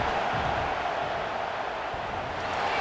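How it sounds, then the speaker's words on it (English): Stadium crowd roars steadily at a Notre Dame vs. Purdue college football game as Purdue lines up a fourth-down field goal attempt, a dense, continuous wash of many voices with no individual words standing out. "This crowd trying to do its part to get inside the kicker's head."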